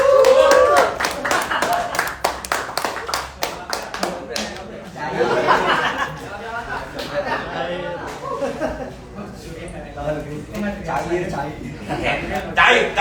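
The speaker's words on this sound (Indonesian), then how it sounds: "Woi, tepuk tangan dong" Studio audience at an Indonesian talk show claps in a burst of sharp hand claps near the start, fading into laughter and chatter with someone talking over it.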